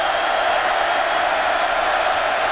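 A large stadium crowd at a Nebraska college football game against Purdue roars in a steady, broad wash of cheering and noise that holds evenly throughout.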